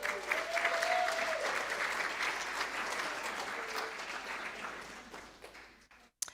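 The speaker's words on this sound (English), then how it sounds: "And one more really big round of applause." Steady audience applause at a school board meeting, fairly faint and even in density, continuing for several seconds before tapering off and stopping abruptly near the end.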